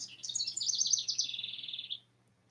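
A songbird sings outdoors in a single bright, rapid warbling phrase lasting about two seconds, clear and moderately near against quiet background hum.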